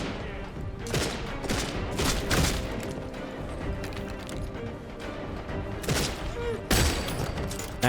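Handgun fire in the video game Redfall: a rapid series of sharp shots, close and loud, with some quicker volleys and a few later single cracks over a dense background of game sound.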